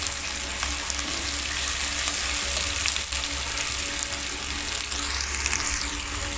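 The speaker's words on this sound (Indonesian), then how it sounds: "Ditumis sampai layu dan harum." A large amount of spice paste is sautéed in a pan until wilted and fragrant, giving a steady, loud, close sizzle that barely changes throughout, with no talking.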